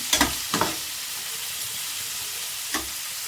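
Chicken 65 pieces fry in hot oil with a soft steady sizzle, broken by a few sharp stirring scrapes near the start and one more toward the end.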